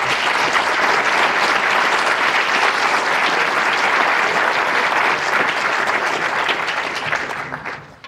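Sustained applause from an audience at a county government's state-of-the-county address, dense and steady clapping filling the room for about seven seconds before tapering off at the end.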